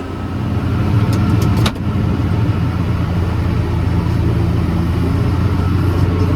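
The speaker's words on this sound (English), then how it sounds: "we're running a John Deere 468 round baler, string tight, twine only" Close tractor engine drones steadily while running a John Deere 468 round baler tying string-tight twine bales, with a few light metallic clinks early on and no talking.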